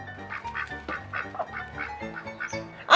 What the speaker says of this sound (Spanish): ¡Y aparte hay patos!